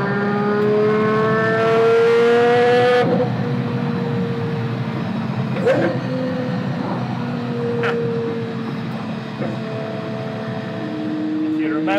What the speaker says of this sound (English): it's pretty loud in here, but remember, this car has no sound deadening at all in it so far.